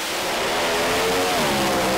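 A Pro Mod drag racing car at a British Drag Racing Championship round roars down the strip, a loud, sustained engine blast with rising pitch as it accelerates, dominating with no talk over it.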